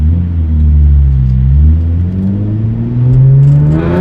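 A modified Hyundai Genesis Coupe 3.8 R Spec V6 pulls hard under acceleration, its loud, steady engine drone rising in pitch through the gear with a close, continuous roar and no talking.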